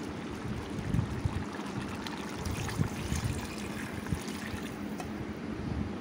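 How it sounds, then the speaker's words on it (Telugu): Water poured into a pot of Andhra-style chicken gravy curry, a steady broadband wash and trickle that runs continuously and fairly loud at close range, with no talk over it. "ఇప్పుడు కూరకు తగినంత వాటర్ని మనం పోసుకుందామండి"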